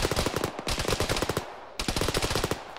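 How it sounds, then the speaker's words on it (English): Rapid machine gun fire from the military shooter game Arma, sustained bursts of fast repeating shots with a brief pause mid-way, loud and close with no talk. "There's a lot of MG fire."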